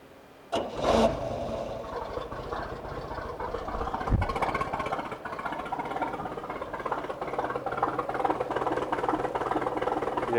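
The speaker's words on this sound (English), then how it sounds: "We'll go ahead and get this one fired up here." The 3.0L Volvo Penta engine in a 1995 Crestliner boat cranks and catches with a sharp burst, then settles into a steady nearby idle with a brief louder knock partway through.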